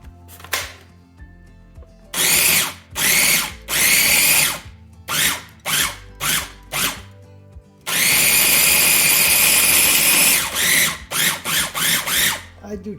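Food processor chopping and grinding Genovese pesto in loud, close bursts of motor whir, short pulses alternating with longer runs and brief quiet gaps between them.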